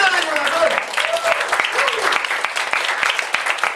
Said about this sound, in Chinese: 给我们热烈掌声一下